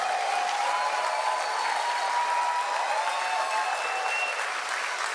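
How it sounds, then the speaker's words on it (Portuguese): Audience applause at a political speech about democracy and culture: a steady, continuous wash of clapping from a large crowd, holding at an even level from start to finish without talk over it. "Pode aplaudir, minha gente, não tem problema não."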